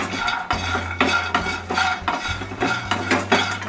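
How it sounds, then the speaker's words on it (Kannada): Garlic frying in a kadai for peanut chutney, heard as rhythmic stirring scrapes roughly every half second over a low hum, close by and fairly loud, with a light sizzle underneath. "ಈಗ ಇದೇ ಬಾಣಲಿಗೆ ಬೆಳ್ಳುಳ್ಳಿ ಕೂಡ ಹಾಕೋತಾ ಇದ್ದೀನಿ."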